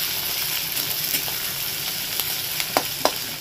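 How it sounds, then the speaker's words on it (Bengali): Chopped onion and garlic fry in a pan for a fish curry, a steady close sizzle with a few sharp scrapes of stirring near the end. "দেখো পেঁয়াজটা খুব ভালো করে ভেজে নিয়েছি।"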